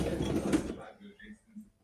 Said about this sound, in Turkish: Şimdi makinemizi boşaltacağız.